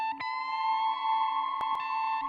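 A sustained, gritty electric guitar chord overdriven through a Tube Screamer pedal rings out steadily, with a couple of sharp pick attacks near the start and toward the end.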